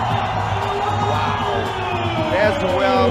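A basketball crowd in a Macau stadium roars and cheers steadily after a dunk in a San Miguel Beermen vs Ryukyu Golden Kings game. An announcer talks over the noise.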